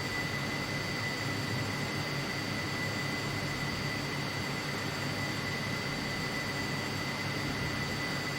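A Gloster Meteor F Mk 8 jet in Flight Simulator 2020 drones with a steady, even engine roar and a thin whine held throughout, no other sounds on top.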